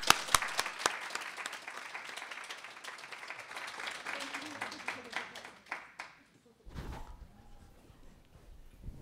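An audience applauds to welcome speakers onto a stage at a talk, a steady dense clapping that fades out after about six seconds, followed by footsteps and a few quiet sounds.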